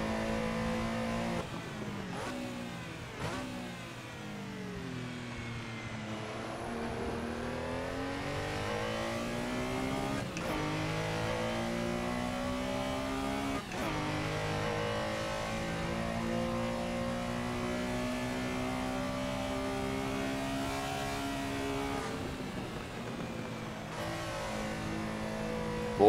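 Porsche Carrera RSR race car engine at full throttle in the Assetto Corsa racing game, a loud sustained howl rising through the gears with brief dips at shifts, continuous and close for the whole stretch.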